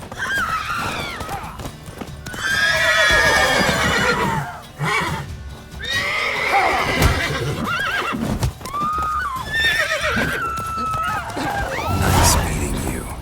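Horses gallop with clip-clopping hooves and repeated loud neighs and whinnies in The Witcher 3 video game, mixed with shouting voices and action noise throughout.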